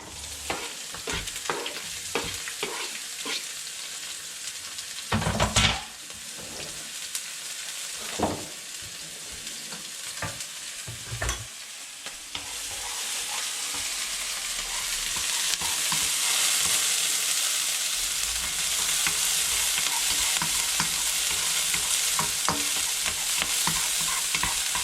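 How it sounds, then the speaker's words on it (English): Chopped chili, chives and garlic frying in oil, a steady sizzle that builds and thickens partway through, punctuated by occasional utensil clicks and stirring scrapes, close up and with no talking. "I'm going to just fry off over here in a bit of oil"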